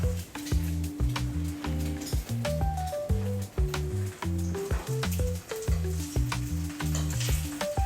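Eggs and capicola slices frying in hot olive oil in a pan, a close crackling sizzle with spitting pops, heard alongside a steady rhythmic musical beat and no talking.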